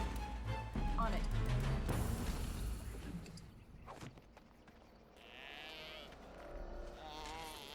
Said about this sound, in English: the Hala sounds like a sheep to me